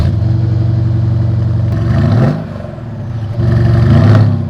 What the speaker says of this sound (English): let's do a little cold start on this twin turbo V8